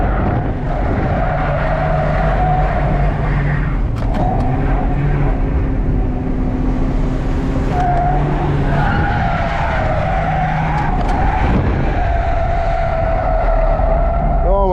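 A Volvo 740 drifting, its engine revving hard while tires squeal and skid in long sweeping bursts, loud and close from inside the car over nearly fifteen seconds, with occasional indistinct voices.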